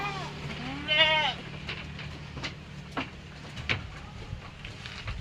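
A goat bleats once loudly nearby, then a few fainter calls follow over a low steady hum and scattered outdoor noise.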